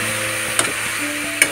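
Mushrooms fry in a pan as ground spice is stirred in, with a low steady sizzle and two sharp utensil taps against the pan.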